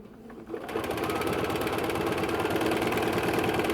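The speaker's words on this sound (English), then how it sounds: "And then you start stitching along." A sewing machine stitches a patchwork cushion at a fairly short stitch length, starting up after a brief pause into a steady, close, rapid mechanical whirring and clatter that runs continuously.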